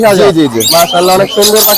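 Caged birds at the Mirpur bird market, a pet and bird market in Dhaka in winter, give tweeting chirps and calls close by, heard beneath steady nearby talk from traders and buyers.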